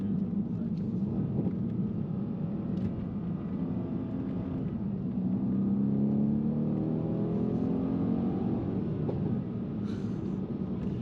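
A Mercedes C63s AMG with a 510 hp engine accelerates hard on a road, its steady loud engine drone rising in pitch as it pulls through the revs, heard from inside the car.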